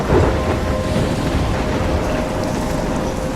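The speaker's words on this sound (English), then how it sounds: "I'm trapped in a storm?" Storm in the game Life is Strange, loud and continuous, with heavy rain and wind roaring and a low thunder rumble near the start, no voices.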